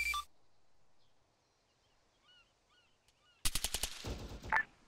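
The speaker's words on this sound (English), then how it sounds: "Whiplash, hold fire, you're shooting at friendly" Arma 3 gunfire erupts after a quiet stretch with faint distant chatter: a rapid burst of close automatic shots, then a further loud crack or two.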